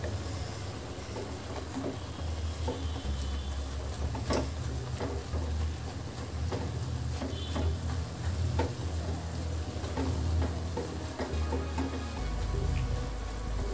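Drumstick (moringa) leaves fry in a pan, making a continuous buzzing sizzle with scattered scraping stirs and soft clinks throughout, close and moderately loud, with no speech.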